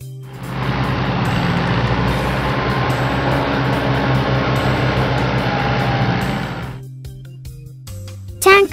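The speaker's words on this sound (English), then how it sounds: "Road roller." A road roller's engine drones steadily up close for about seven seconds, a loud low rumble with a faint whine, then cuts off, leaving quieter background sounds.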